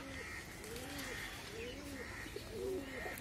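Several pigeons coo in rolling, repeated throaty calls close by, with faint background noise and a little speech.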